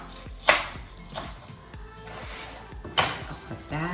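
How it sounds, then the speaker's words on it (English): A knife rough-chops baby spinach on a board, a handful of distinct close chops spaced about a second apart, with faint kitchen clatter between them. "I'm gonna take some spinach, just some baby spinach, and rough chop"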